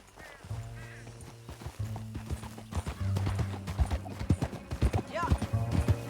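Rhythmic clip-clop of galloping horse hooves in Red Dead Redemption 2 with a neigh, over a low droning backdrop, building in intensity.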